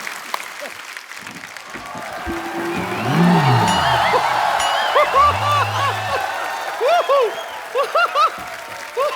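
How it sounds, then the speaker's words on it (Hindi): A studio audience at a TV comedy show applauding: sustained clapping runs throughout, partly covered by voices and tonal sounds layered over it. "जोरदार तालियां एक बार बाबा जी के लिए।"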